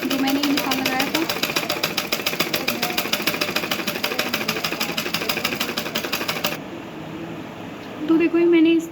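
A sewing machine stitches blouse fabric in a fast, even rattle of needle strokes for several seconds, then stops abruptly, and someone talks briefly afterward.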